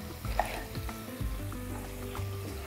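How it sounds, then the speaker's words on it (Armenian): Sweet and hot peppers frying with onions in a pan, a soft steady sizzle with occasional light stirring scrapes, quiet and close, no talking. "Սոխերացին կավելացնեմ քաղցր և կծու պղպեղներ"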